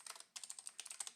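Keys pressed on a computer keyboard during a Windows login: a quick burst of light clicks, a short pause, then a steady run of about a dozen crisp taps, close and quiet.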